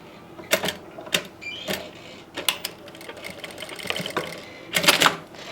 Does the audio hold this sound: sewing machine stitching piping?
yes